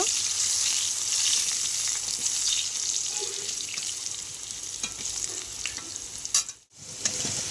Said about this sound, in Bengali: আমি আলুগুলো আগে দিয়ে দিচ্ছি আলুটা আগে দিয়ে দিলাম আলুটা একটু ভাজা হলে তারপরে আমি কাঁচপালাগুলো দেব